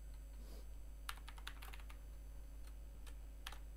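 Keys clatter on a computer keyboard while a basic C program is being written, faint irregular bursts of taps over a steady low hum, no talking.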